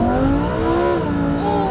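A Lamborghini Huracán Evo V10 launches hard in Corsa mode with traction control off, its engine roaring loud and close with a strong, rising howl that climbs in pitch as it accelerates.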